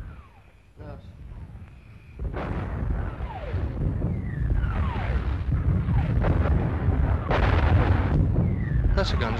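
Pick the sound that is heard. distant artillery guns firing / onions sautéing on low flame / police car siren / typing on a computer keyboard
distant artillery guns firing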